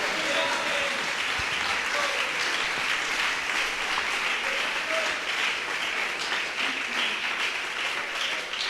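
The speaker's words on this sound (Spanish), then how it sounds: "¿Cuánto le da un aplauso al Rey de Gloria?" A church congregation applauds during a sermon with steady, dense, continuous clapping for nearly nine seconds, fairly loud and even throughout, with faint voices mixed in.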